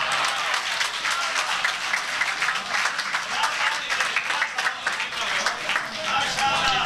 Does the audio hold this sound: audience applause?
yes